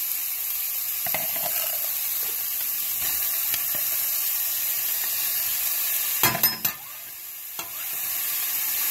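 A steady sizzle of garlic frying in a hot pan, with soft stirring scrapes and a few louder clatters near the end.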